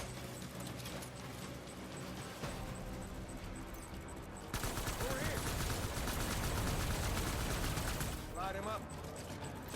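Assault rifle fire in the video game Death Stranding comes as dense, rapid bursts that grow louder midway, mixed with other game noise.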